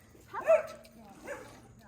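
A young puppy gives two short, close yipping barks with a whimpering, whiny edge, spaced about a second apart, while people nearby talk.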